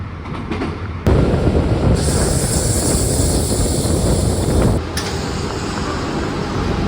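A Paris Metro train rolls along in a loud, continuous rumble with rattling and a high electric whine that rises partway through, heard up close from inside the carriage.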